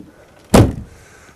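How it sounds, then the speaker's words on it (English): The driver's door of a 1965 VW Beetle is shut with a single solid thud, close and loud, followed by a short fading rattle. "I haven't managed to shut the driver's door properly."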